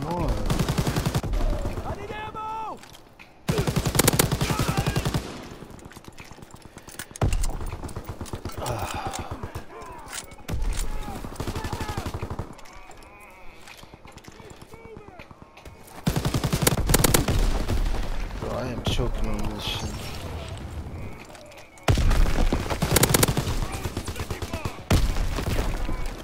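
Rapid bursts of gunfire ring out in an online shooter video game match, loud automatic volleys separated by short pauses, with a player talking excitedly over the shooting.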